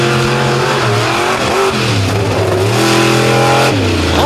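The bright white War Wizard monster truck from Knoxville, Maryland revs hard at a freestyle jamboree, its engine note rising and falling in close, loud surges that fill the whole stretch.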